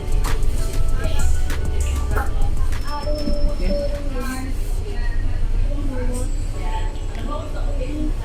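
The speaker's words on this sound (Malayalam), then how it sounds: "ട്രാം പോകുന്നുണ്ട്." A tram passes in Manchester city centre as a low, steady rumble heard from a tour bus, partly masked by ongoing talk.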